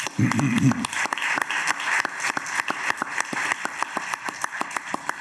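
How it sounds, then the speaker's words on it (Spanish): Audience at a lecture on Francisco de Goya claps to welcome the speaker, a fairly faint, distant round of applause that thins into scattered individual claps, with a brief voice at the start. "vamos a recibirlo con un fuerte aplauso"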